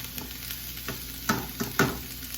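Chunky diced onion sizzling in a pan, a steady close frying hiss with a few soft stirring scrapes and clicks on top, no voices.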